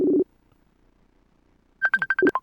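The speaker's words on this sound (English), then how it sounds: "Incoming call." A phone plays an incoming-call ringtone: a short low tone first, then after a pause a rapid run of bright melodic beeps, close and clear with no talk.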